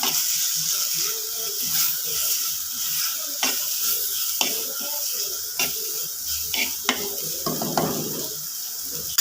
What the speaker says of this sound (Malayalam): മല്ലിപ്പൊടി ഞാൻ ഒരു സ്പൂണും സ്വൽപ്പം കൂടി ഇടുന്നുണ്ട് ഇളക്കി കൊടുക്കാം